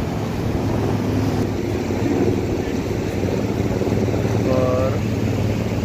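The Sind River near Zojila Pass on the Amarnath Yatra route rushes over stones down a slope in a loud, unbroken roar, with a faint voice buried beneath.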